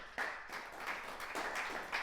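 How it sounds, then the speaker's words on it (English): Audience applause at a writers' reading during a Sister Cities Writers Exchange event: steady, dense clapping from a crowd that fills the whole stretch at a moderate, slightly distant level, with no talking. "You guys are just knocking me out with all this applause."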